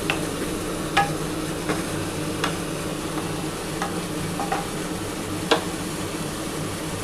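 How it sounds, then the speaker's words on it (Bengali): Spice paste sautéing for a Bengali prawn malai curry, with a steady close sizzle of frying and a spoon scraping and tapping against the pan at irregular intervals. "যতটা ভালো করে তোমরা মশলাটা কষাতে পারবে ততটা কিন্তু এই চিংড়ি মাছের মালাইকারিটা খেতে ভালো লাগবে।"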